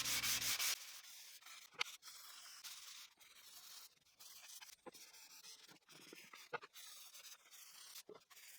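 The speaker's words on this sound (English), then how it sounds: "all the pieces have been sanded, including the two that were joined together" Wooden pieces are sanded by hand, a soft steady rubbing with rhythmic strokes and a few sharper scrapes, close and fairly quiet, with no talking.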